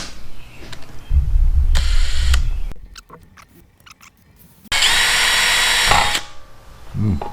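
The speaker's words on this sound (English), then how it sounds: "I have 2 screws that I'm going to be screwing down in there to be able to lift this out." Power screwdriver driving two screws into a pressure washer housing near the crankshaft seal, heard as two loud whirring bursts separated by quieter clicks and handling noise.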